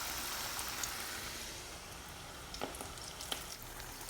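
Spinach pakoda batter sizzles steadily in hot oil, a dense, even crackle with occasional louder pops, close and moderately quiet.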